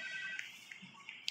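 A telephone rings inside a Roblox horror game, a faint electronic trill that repeats in short, evenly spaced pulses over a quiet background.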